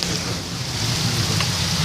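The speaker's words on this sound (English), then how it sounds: "It's kind of raining a little harder than I anticipated it to." Heavy rain pours steadily outside, a dense, continuous hiss of falling water with a low rumbling undertone and no pauses.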